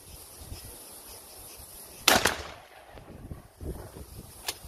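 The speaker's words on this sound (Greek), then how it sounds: "Πάμε να κάνουμε τουφεκιά." A single sharp shotgun blast cracks out loud in an open outdoor setting, followed by a short echo and faint rustling, with quiet ambience before and after.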